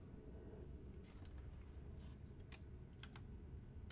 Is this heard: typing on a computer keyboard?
yes